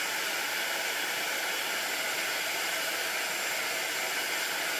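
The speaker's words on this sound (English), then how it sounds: "make sure you move the heat tool around" A constant, breathy whoosh of hot air blowing from a handheld heat tool, steady and unbroken throughout with no voices.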